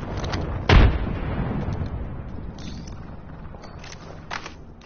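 A frag grenade blast in the battle royale shooter Apex Legends, one heavy close boom early on followed by rumbling gunfire, footsteps and small pops fading in the background, with no talk.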